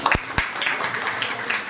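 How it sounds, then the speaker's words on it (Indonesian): Applause for a temple committee at a Hindu gathering, a couple of sharp claps up front giving way to a steady patter of hands from a crowd across the short stretch. "tepuk tangan untuk pengurus semuanya"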